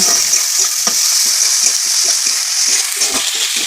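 Green chillies and ginger paste sizzle loudly in a pan, a close, continuous hiss broken by repeated scraping strokes as the spatula stirs them, with no voices.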